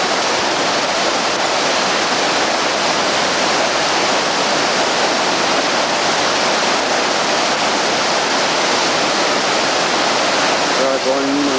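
Rushing river water on a catamaran trip fills the scene with a steady, loud broadband roar that holds unbroken throughout, with a faint voice surfacing briefly near the end.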